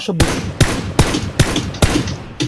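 Gunshots in a shooter video game, five sharp loud reports spaced roughly every half second over a steady background din, with no talk heard.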